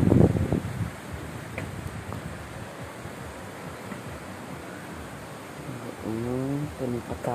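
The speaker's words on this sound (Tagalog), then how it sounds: "Kusog ang hangin." Steady typhoon wind hisses and rumbles against the microphone, with a burst of buffeting at the start and a brief voice near the end.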